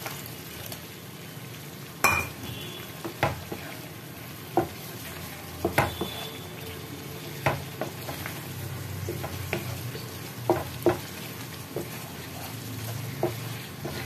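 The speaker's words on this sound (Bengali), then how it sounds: "এবার এখানে পনিরের সাথে মশলা একটুখানি কষিয়ে নেব।" Paneer sizzles with spices in a new frying pan while a utensil stirs and scrapes it, giving a steady hiss broken by clinks and taps.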